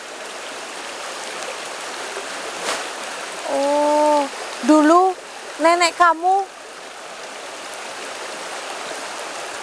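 A river stream flows in a steady, even wash throughout, with someone speaking briefly over the water in the middle.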